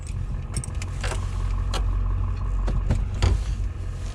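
A 2004 LB7 Duramax 3500 dually diesel truck rumbles along at low speed, a steady close engine drone with a few clanks and knocks over a few seconds.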